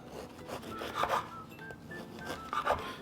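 A knife cuts the top of a sourdough bread loaf into strips for a spinach dip, giving several close, soft scraping and rasping strokes in irregular bursts, with no talking.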